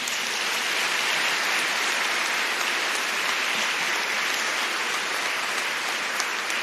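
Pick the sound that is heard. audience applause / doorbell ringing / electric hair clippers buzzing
audience applause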